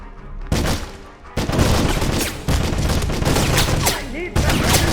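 Heavy battle gunfire in the 2009 shooter game Wolfenstein, a loud, dense fusillade of overlapping shots and booms that barely lets up, with shouted voices mixed into the chaos.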